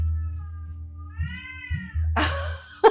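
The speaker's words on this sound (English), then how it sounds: "Oh, do you hear my kitty?" A cat meows twice in drawn-out, rising and falling cries over a low steady hum, followed by a burst of rustling and a sharp knock.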